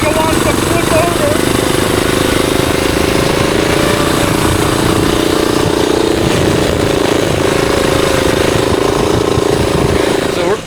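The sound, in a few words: turbo diesel racing go kart engine running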